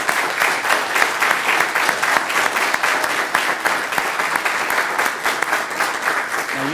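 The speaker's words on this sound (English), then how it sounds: "Round of applause." Sustained applause from an audience at a city council meeting of mayor and aldermen, a dense, steady wash of many hands clapping close by throughout, with no talk over it.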